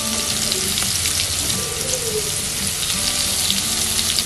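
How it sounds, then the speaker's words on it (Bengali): Potatoes fry in hot oil in a pan for a paneer kaliya dish, giving a loud, continuous, close hiss of sizzling that stays even throughout with no voices. "ওই তেলের মধ্যেই আমি আলুগুলো দিয়ে দিচ্ছি। আলুগুলো অল্প ভেজে নেব।"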